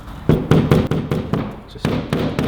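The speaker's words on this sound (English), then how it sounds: "Just going to give it a bit of a whack with the old hammer." A series of sharp, loud hammer blows seating a short shifter part on a Mitsubishi Evo X, about eight whacks in an uneven rhythm, each ringing briefly before the next strike.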